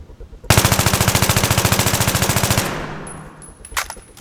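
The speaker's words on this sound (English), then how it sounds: "This is the AEK and this is the foregrip and the flash suppressor" An AEK rifle fitted with a foregrip fires one long fully automatic burst in Battlefield 3, rapid evenly spaced loud shots for about two seconds, then fading echo and a few small mechanical clicks.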